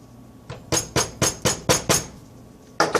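Hammer gives light taps to pack a closehanger cardboard firecracker: a single soft knock, then six sharp evenly spaced strikes, a pause, and another hit, close and crisp.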